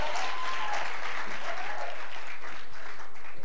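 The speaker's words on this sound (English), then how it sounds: "A round of applause for Gaddafi," An audience at the Polokwane literary fair bursts into sustained applause, a dense, even wash of clapping that carries on steadily with little talk.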